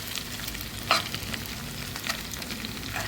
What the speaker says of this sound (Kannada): ಇದನ್ನು ಅಷ್ಟೇ ಹಾಗೆ ಶಾಲೋ ಫ್ರೈ ಮಾಡಬೇಕಾಗ್ತದೆ.